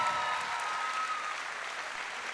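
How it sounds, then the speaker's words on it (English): An audience at a bouldering competition applauds the 2016 Bouldering World Champion, Petra Klingler, with a steady, even wash of clapping from a sizeable crowd, moderately distant and without talk. "a round of applause for the 2016 Bouldering World Champion"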